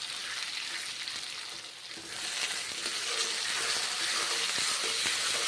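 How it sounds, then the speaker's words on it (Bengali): Pointed gourd pieces frying in a pan of oil with dried fenugreek leaves, a loud continuous sizzle that dips briefly then swells back into a steady, crackling roar. "পটলগুলোকে ভেজে নিচ্ছি পটল ভেজে নিয়ে রান্না করছি তরকারি"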